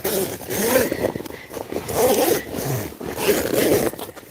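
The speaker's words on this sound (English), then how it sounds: "So I'm zipping it back up." A zipper on a KingCamp tent is pulled closed in three long, close, rasping strokes with short pauses between them.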